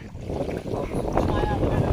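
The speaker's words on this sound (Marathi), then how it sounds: "इथंच हवा किती आहे बघ समुद्रावर" Strong sea wind blows over the water on a small-boat fishing trip off the Konkan coast, a loud continuous rushing buffet with gusts battering the microphone.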